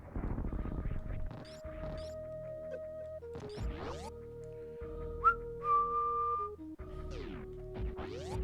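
The flute from the SMZ3 Zelda/Metroid randomizer game plays a series of clear, sustained whistle-like tones with pitch slides, interspersed with other game sound effects.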